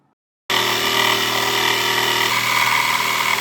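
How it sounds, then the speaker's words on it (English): A jigsaw cuts through plywood for a homemade boxing speed bag, starting abruptly after a short silence and then running as a loud, steady, close-up motor whine and blade buzz. "So you see me using the jigsaw"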